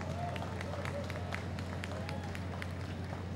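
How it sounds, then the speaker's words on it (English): Scattered, fairly distant applause from an audience at the Carifesta XIII closing ceremony in Barbados, sparse individual claps over a steady low hum and the murmur of the room. "Give yourself a round of applause."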